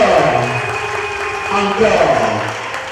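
A theatre audience applauds after a play, steady clapping with a few cheers spread through the hall, heard beneath a voice talking over it.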